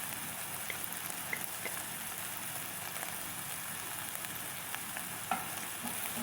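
Hot sauce, soy sauce and ketchup cook in a pan for pasta, giving a steady close sizzle with faint scraping and a few sharp clicks of stirring, heard alone without speech.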